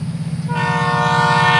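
A loud rumble of a passing Florida East Coast freight train 105, then a sharp, multi-tone horn blasts in over the rolling noise and holds steady to the end.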